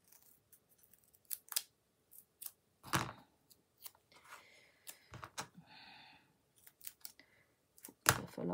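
Scissors snip paper for card making in short, quiet bursts, a few sharp crunchy cuts separated by pauses, close up with no talking.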